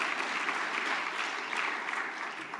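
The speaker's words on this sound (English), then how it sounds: "Give yourselves a round of applause." A political rally audience claps steadily, a dense, sustained roar of hands from a large crowd without pause.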